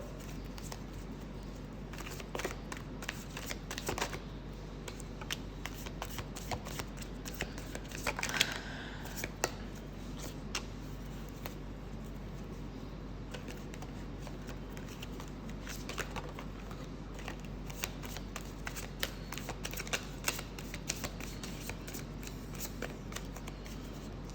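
Tarot cards riffled and shuffled by hand in a quiet room, a steady patter of soft papery flicks and slaps running throughout at low level over faint background hum.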